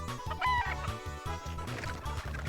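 Chickens clucking in the video game Breath of Fire 3, a rapid rhythmic run of short clucks repeating evenly over game music, fairly close and moderately loud.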